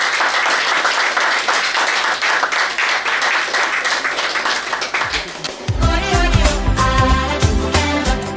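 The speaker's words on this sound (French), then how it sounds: "Merci de les applaudir très fortement." Dense applause fills the first five seconds, then gives way to loud music with a heavy beat.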